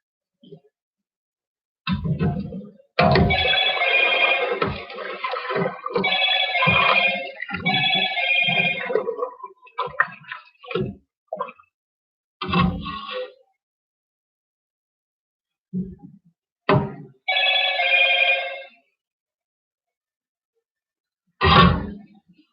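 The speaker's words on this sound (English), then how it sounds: "that was my phone" A mobile phone rings in a home kitchen, repeated bursts of a melodic ringtone with gaps of silence between them, loud and close.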